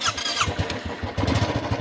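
A motorcycle engine starts up close by, a short cranking burst catching into a rough, throbbing idle that keeps running to the end.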